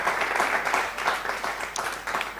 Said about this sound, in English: let's give our sponsors another round of applause